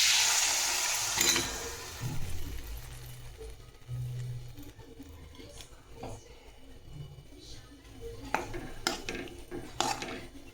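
Steamed drumstick pods tip into a pan of cooked masala and get stirred, with clattering and scraping of a spoon against the metal in uneven bursts, and a voice speaks faintly in the background.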